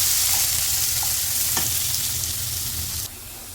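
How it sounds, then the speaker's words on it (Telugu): Onions sizzle and fry in hot oil with cumin and fennel seeds, a dense, steady crackle close up that drops slightly near the end, with no talking. "ఆయిల్లో ఆనియన్స్ వేసాము కదా."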